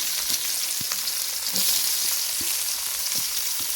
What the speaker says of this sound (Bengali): পেঁয়াজটা আমি একটু হালকা করে ভেজে নিলাম